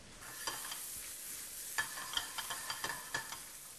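Mushrooms with a whole crushed garlic clove frying in a pan, a soft close sizzle punctuated by a series of light stirring taps and scrapes.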